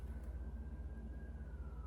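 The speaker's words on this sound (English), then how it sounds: "I don't know why there's so many sirens all of a sudden here." Emergency vehicle sirens wail faintly and far off outside, a steady distant tone under low background rumble.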